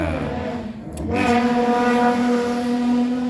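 Motorcycle engines drone steadily and rise in pitch as they pass close by at night, loud and sustained, with no talking.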